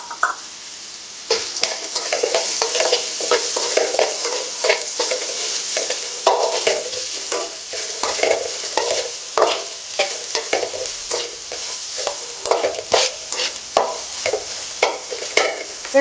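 Onions are fried and stirred in a pan for a shark fry, giving a steady close sizzle broken by repeated scraping strokes of a spoon, with no talking.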